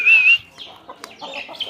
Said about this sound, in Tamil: ஆனால் இந்த மாதிரி கோழிங்கெல்லாம் பாருங்கள் வந்து துரத்தி விட்றது பாருங்கள்.